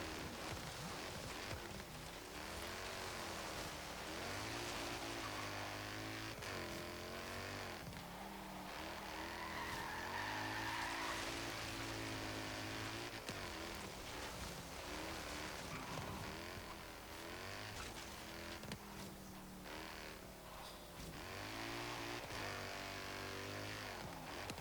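A 2017 Jaguar F-PACE S slides into oversteer during an autocross run in Forza Horizon 3, its engine note rising and falling in steady waves as the tires skid. A loud, continuous drone runs throughout, with brief hissy squeal bursts in the middle.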